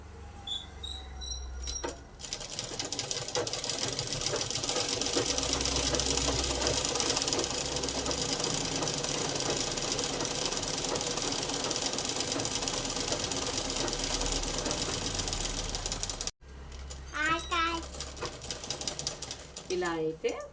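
An electric sewing machine stitches the lining of a crop top, a loud, fast, steady whirring run of about fourteen seconds that stops abruptly, then starts again briefly, with a voice speaking at the end.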